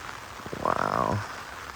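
Rain falls in the Florida Everglades near a limestone sinkhole, making a steady hiss. Midway through, a single frog-like croak or call briefly rises above the patter.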